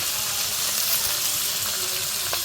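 Fish pieces fry in a pan with a loud, dense, continuous sizzle and spatter that holds steady from start to finish, close up.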